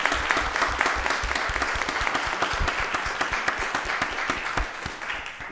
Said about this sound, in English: Stand up and let's give them a round of applause.